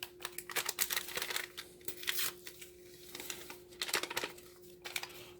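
Scissors cutting one plastic packet off a strip of packets, several close crisp snips and crinkles in short bursts over a steady background hum.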